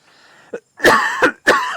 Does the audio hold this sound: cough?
yes